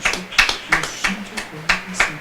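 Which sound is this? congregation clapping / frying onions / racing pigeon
congregation clapping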